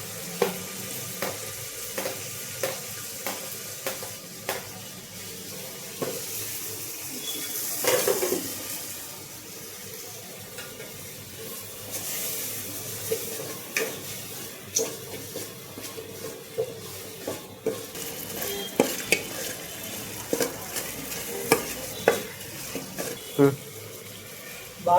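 Tomatoes and ginger paste fry in a pan, giving a steady sizzle under repeated scraping stir strokes, with clanks of a utensil against the pan and a voice talking in the background.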